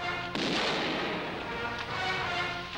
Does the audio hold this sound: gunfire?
yes